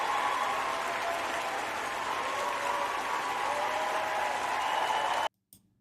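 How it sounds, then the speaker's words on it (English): Canned applause sound effect triggered from a soundboard on a morning comedy show, a steady wash of crowd clapping that runs evenly for about five seconds and then cuts off abruptly. "Cueing the applause now."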